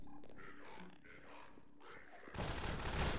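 Gunfire in the Half-Life 2 mod Synergy during a canal escape: a sudden loud burst of rapid shots erupts near the end after a stretch of quieter game sounds.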